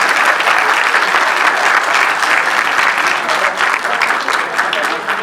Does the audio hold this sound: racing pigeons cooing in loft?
no